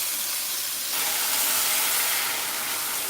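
Water poured into a hot pan bursts into a loud, steady steaming hiss that swells after a second and holds, close and without any talking.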